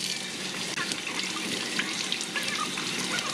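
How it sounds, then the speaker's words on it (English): Hot tap water runs steadily over glass canning jars as they are rinsed, a continuous close hiss of flowing water with faint clinks and splashes. "then I use some hot water and we're going to wash the jars."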